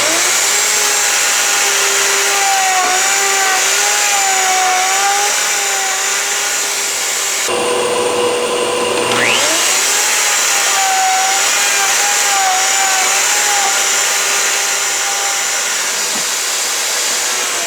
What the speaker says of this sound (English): I'll cut the mortises for the other set of boards